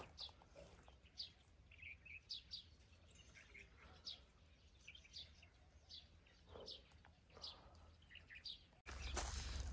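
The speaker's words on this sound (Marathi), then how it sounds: "पक्षी बघ ना किती प्रकारचे. आवाज ऐक फक्त." Many birds chirp and call from a distance in quiet outdoor air, overlapping tweets of several kinds, ending in a burst of rustling noise.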